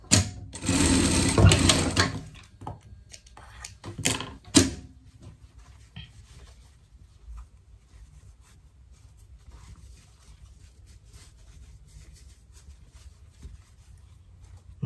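Sewing machine stitching a fox-themed hoodie, a loud steady whirring run for about two seconds, then a short burst near four seconds, followed by quiet handling noise.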